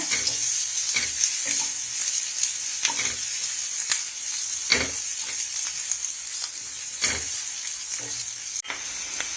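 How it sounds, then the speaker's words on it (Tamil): Ginger stirred into onions sautéing in a pan with green chillies for a potato poori masala: steady close sizzling broken by repeated scraping spoon strokes about once a second. "அதையும் நல்லா இந்த வெங்காயத்தோட கலந்து விட்டுடுங்க."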